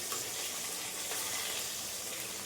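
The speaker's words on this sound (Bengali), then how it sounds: "আলুগুলোকে লাল লাল করে ফ্রাই করো" Potatoes frying in a pan, a soft continuous sizzle with a broad steady hiss, faint and even throughout, with no voices.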